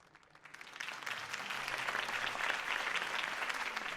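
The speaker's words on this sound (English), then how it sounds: "could have heard that applause" Applause in Batman: The Telltale Series swells from quiet to a full, steady wash of many hands clapping, sounding like a sizable crowd at moderate distance.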